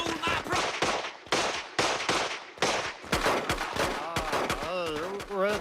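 Rapid cartoon gunshots ring out in a Simpsons western shootout, sharp repeated bangs in bursts, followed by a voice and other sounds under continued firing.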